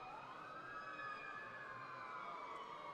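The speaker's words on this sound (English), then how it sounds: "You hear the ambulance speeding up Larch Street to our right." An ambulance siren wails steadily with a rising and falling tone as it speeds along a street past a baseball game, heard at moderate distance over low traffic rumble.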